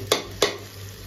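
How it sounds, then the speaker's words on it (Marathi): Two quick stirs of tomato and onion sautéing in a pan, each a brief scrape over a steady low sizzle. "या मग कसं भाजी परततोय बघा. भाजी अजून झालेली नाही रे. टोमॅटो कांदे."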